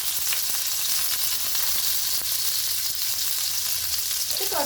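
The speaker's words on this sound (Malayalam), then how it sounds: "എണ്ണ ചൂടായതിനു ശേഷം നമുക്ക് അരിഞ്ഞു വെച്ചിരിക്കുന്ന സവോളയും പച്ചമുളകും ചേർത്ത് കൊടുക്കാം" Onions and green chilies frying in hot oil, a loud, steady hiss of sizzling with faint crackles and a brief scrape near the end, no voices.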